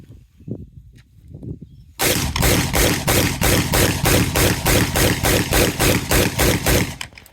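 Rapid burst of about sixteen gunshots fired at a vehicle pillar in a ballistics demonstration, loud, close and evenly spaced, following a short stretch of quiet talk.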